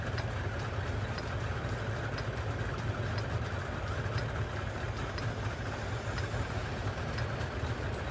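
A tank engine idles in the World of Tanks video game as a steady, low rumbling drone. It stays constant throughout and plays alone, with faint regular ticks above it.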